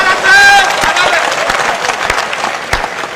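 A live comedy audience claps and applauds, a dense burst of hand claps with crowd noise that stays steady and close, with scattered sharper claps standing out.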